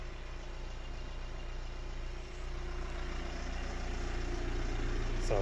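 A car engine idles just after starting, an Audi, VW, Skoda or Seat being checked for white smoke, giving a steady, even low rumble with a faint hum and vibration, close by and unbroken, with no talk.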